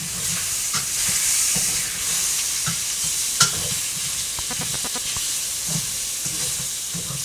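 Beef stroganoff ingredients cooking slowly in olive oil over medium heat, sizzling steadily while being stirred, with soft scraping and clinking of the utensil against the pan and no voices.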